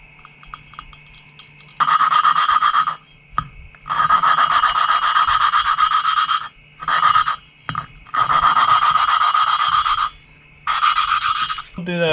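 UTV engine valves are lapped with a suction cup tool and grinding compound, giving loud, close, gritty rasping in long bursts with short pauses between them.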